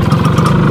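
A motorcycle engine idling on a street in Havana, a loud, close and steady low throb with a slight pulsing rhythm and no voices.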